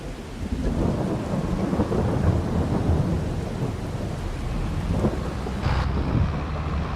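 Steady heavy rain pours down in Farming Simulator 22, a dense continuous wash with low rolling thunder rumbling underneath throughout, loud and unbroken from start to finish.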